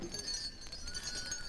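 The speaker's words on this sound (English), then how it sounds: "You hear the wind chime?" Glass wind chimes on a front porch tinkle faintly and continuously, a soft, high shimmer of light clinks over a quiet background.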